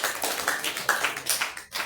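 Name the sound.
applause in church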